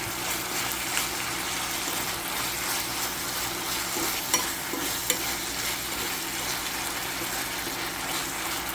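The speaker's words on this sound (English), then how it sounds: "as you kind of stir it too, it also kind of naturally separates" Korean beef bulgogi frying in a pan, stirred steadily with a utensil: continuous close sizzling with scraping and a few sharp clinks, no talking.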